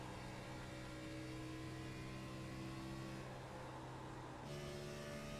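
A NASCAR Xfinity race car engine at Indianapolis Motor Speedway hums steadily at a distance, a faint sustained drone with stable tones that shifts slightly in pitch near the end.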